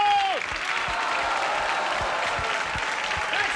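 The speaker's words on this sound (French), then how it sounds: "Et les applaudissements avec des bravos." Audience applause at a live French comedy stand-up show, a dense steady wash of clapping from a full crowd, with a brief whistle-like tone at the start and no clear shouts.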